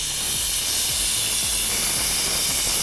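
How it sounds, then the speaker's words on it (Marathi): A pressure cooker whistles steadily while mutton cooks for biryani, a loud continuous steam hiss running unbroken throughout with low clatter beneath, no voices. "हा कुकर शिट्ट्यावर शिट्ट्या मारतोय तुम्हाला बघून."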